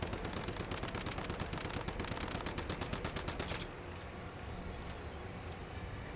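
Rapid automatic gunfire at the Monolith boss in the shooter game Once Human, a dense stream of evenly spaced shots that stops abruptly partway through, leaving a rumbling game backdrop.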